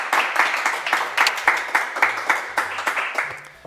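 A small group claps steadily for a few seconds, irregular overlapping hand claps at close range, fading slightly toward the end.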